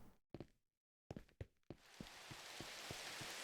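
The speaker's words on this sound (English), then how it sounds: "We've got rain coming in." Rain falls in the Minecraft video game: after a few soft knocks and thuds, a steady hiss of rain rises and fills the background, with faint dull taps scattered through it.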